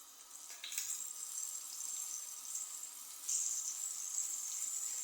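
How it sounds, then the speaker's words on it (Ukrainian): Quiet, bright hissing sizzle of flour-dredged meat frying in a pan, rising in intensity partway through, with no talking. "Беремо м'ясо, обмочуємо його в муці і відправляємо на сковорідку."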